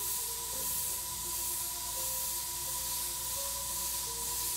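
Steady, continuous airbrush hiss at 45 to 50 PSI, close and even throughout with no talking over it.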